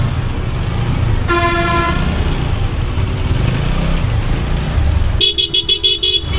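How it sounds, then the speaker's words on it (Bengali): Car horns honk in a Dhaka main-road traffic jam: one long horn blast, then a rapid run of short beeping toots, over a rumbling bed of engines and road noise. "আর সহ্য হয় না আমার এই জ্যামের জ্যাম।"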